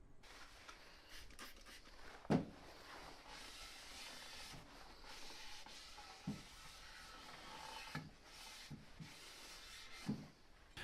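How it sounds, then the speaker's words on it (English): Rag wiping an engine oil sump with rubbing alcohol on a Peugeot 106 1.1 TU engine, quiet soft rubbing and hiss with a few brief knocks. "Another quick wipe over with the rubbing alcohol."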